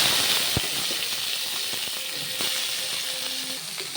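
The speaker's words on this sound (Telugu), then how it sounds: "ఇదిగోండి ఎండుమిర్చి కూడా వేగిపోయింది. తెల్లపాయలండి, ఇదిగోండి తెల్లపాయలు కూడా వేగిపోయినాయి." Dry red chillies and garlic frying in hot oil give a steady close sizzle and crackle, with a few sharp pops and light utensil taps, no voices.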